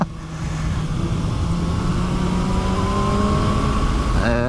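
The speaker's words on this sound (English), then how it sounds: "And another car." A car sweeps past a motorcycle on a curvy road, its engine and tyre roar rising steadily under the bike's own steady engine drone and wind rush, with a brief shift in pitch near the end.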